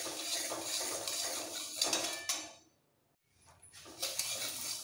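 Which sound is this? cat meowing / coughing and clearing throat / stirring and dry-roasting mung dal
stirring and dry-roasting mung dal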